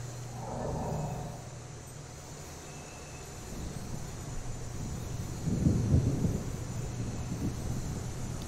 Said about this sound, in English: Storm is coming.